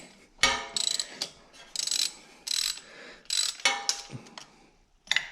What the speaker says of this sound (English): putting it on a wrench, because you're not going to break these loose with an Allen wrench